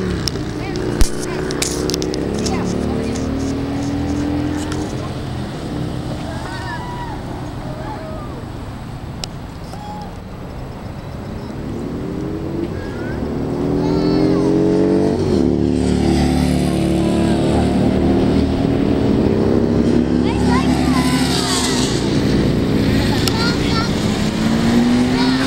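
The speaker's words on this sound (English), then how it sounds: "Motorcycles." Motorcycles in a presidential motorcade pass nearby, engine rumble rising and swelling as they go by over about twenty-five seconds, with children and adults talking over the noise.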